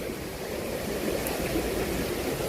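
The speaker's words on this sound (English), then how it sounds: "The sound of the water or the sound of the waterfall." Constant broadband rush of a waterfall and flowing water at Disney's Animal Kingdom, an even hiss that holds steady throughout with no voices.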